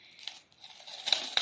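A small paper packet of surprise crafts is opened by hand, a brief, quiet run of crinkling and tearing with two sharper crackles near the end.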